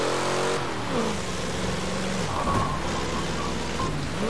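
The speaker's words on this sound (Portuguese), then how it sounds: "essa chuva aí vem pra ajudar." Rain falls during a Forza Motorsport 7 race with a police car and Ford Bronco, a steady wash of rain noise mixed with an engine revving and shifting throughout, no talking.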